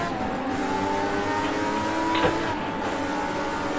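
A race car engine in Project CARS 2 holds a steady high drone with tonal whine, heard close and continuous, with a brief rising surge partway through and no talking.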